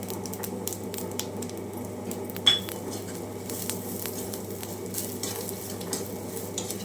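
Spices such as fenugreek and fennel seeds dry-fry in a pan over a low flame, a faint steady crackle broken by scattered light scrapes and taps of a spoon against the pan.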